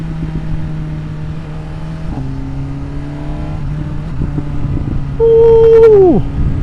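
A motorcycle with a stock exhaust revs through rising and falling engine tones, then surges loudly in one sharp rev near the end before dropping off with popping.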